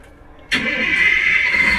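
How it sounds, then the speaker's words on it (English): A fire truck's engine cranks and starts after a short quiet moment, then settles into a loud, steady idle rumble with a bright mechanical whine that fills the rest of the clip. "press the blue flashing light to start the engine"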